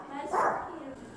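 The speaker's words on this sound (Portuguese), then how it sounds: "Toda vez que eu pego a Baby, ele fica latindo feito doido." Dog barking at home during bath time, a short loud burst near the middle, with people talking over it throughout.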